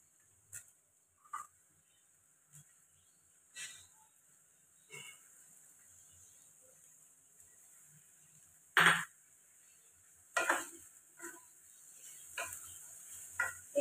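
Matar dal (pea lentils) stirred in a frying pan: sparse, quiet scrapes and clinks of a spoon against the pan, with a few louder stirring bursts, over a faint sizzle.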